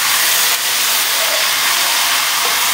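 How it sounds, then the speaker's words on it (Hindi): Tomatoes hitting hot oil in a pan give a loud, steady, close sizzling hiss that holds evenly for a few seconds without any voices. "अब इसमें हम टमाटर डालेंगे"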